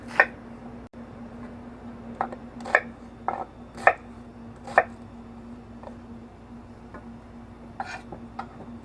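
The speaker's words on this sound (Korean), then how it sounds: "양파는 한 개 반 정도 썰겠습니다." A knife chops an onion on a cutting board, giving scattered, crisp single knocks at an irregular pace over a faint steady hum.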